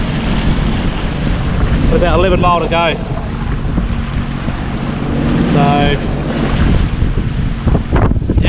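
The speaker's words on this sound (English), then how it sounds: "it's not much fun out here on a jet ski." A Sea-Doo Fish Pro jet ski pounds through rough, windy sea, with constant loud wind buffeting the microphone and engine and hull noise throughout while someone talks briefly over it.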